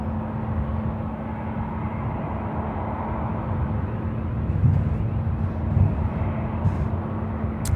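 A Qantas airliner takes off at night from Sydney Airport, a loud steady broadband engine roar with a low hum that holds throughout, close and dominant.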